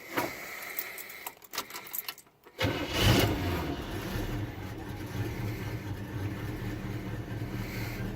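A 1976 Pontiac Firebird with an Edelbrock carburetor and no choke, started dead cold at 35 degrees: a brief cranking, the engine catches with a burst, then it settles into a steady, smooth idle close by.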